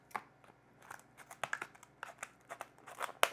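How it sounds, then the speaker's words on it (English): Short, sharp snips and crinkles of scissors cutting plastic packaging, coming in quick irregular bursts close to the listener. "I might have to use the scissors"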